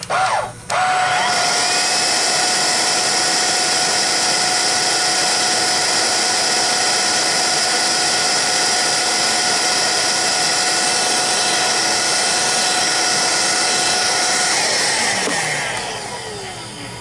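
Budget cordless pet vacuum cleaner switched on, its motor spinning up quickly into a loud, steady high-pitched whine with a constant hum, running continuously before winding down at the end, with no voices.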